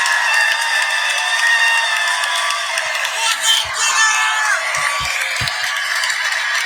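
Baseball stadium crowd reacting to a Phillies play against the Mets, a loud, steady roar of many voices that swells and holds for several seconds, with a few low thuds near the end.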